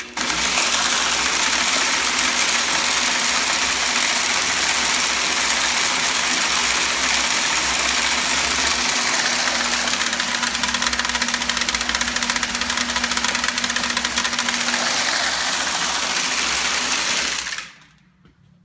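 A finger-meter planter runs at about 5 miles per hour with a steady, dense mechanical clatter and hum, continuous and loud for about seventeen seconds before cutting off abruptly.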